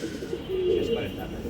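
Pigeons on a pigeon farm give a short, soft coo against a low background hum, with a person speaking nearby.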